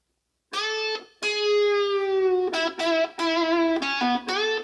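Electric guitar plays a riff, with a sustained note pushed up in a wide string bend, then several more bent and picked notes ringing loud and clear on their own, with no talking.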